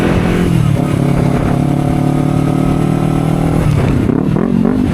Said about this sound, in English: The sound of Akrapovic exhaust.